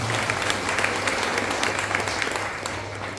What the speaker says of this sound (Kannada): ಇನ್ನೊಂದು ಜೋರಾಗಿ ಚಪ್ಪಾಳೆ ಬರೋದು ಜ್ಞಾನೇಶ್ವರಿಗೆ.